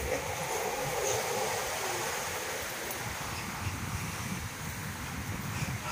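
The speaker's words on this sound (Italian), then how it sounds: "C'è però un bel po' di vento, quindi non resisterò molto, perché il vento a me dopo un po' mi stanca e il mare è agitato." Strong wind blows steadily at a beach with rough seas, a constant loud roar of gusts buffeting the microphone with a low rumbling undertone throughout, no voices.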